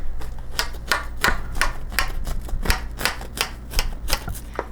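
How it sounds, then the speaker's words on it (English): An old, dull steak knife cutting through a southwestern casserole in its dish, a series of about a dozen sharp, evenly spaced taps and clacks, close and fairly loud. "So, I'm going to go ahead and cut."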